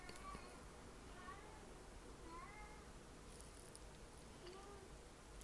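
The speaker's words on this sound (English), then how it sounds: "my cat is throwing a tantrum in the back. If his meows are too obnoxious, I'm going to cut it out." A pet cat meows a few times somewhere in the back, faint and distant, mixed into a quiet background hiss.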